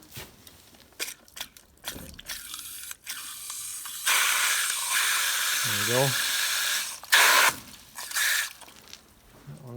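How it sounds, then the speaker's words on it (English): Water rushes and hisses into automatic cow drinking cups in a dairy barn after a pipe repair, a loud broadband spray lasting several seconds with a brief gurgle, between short bursts of nearby talk. "Let's see if the drinking cups are working."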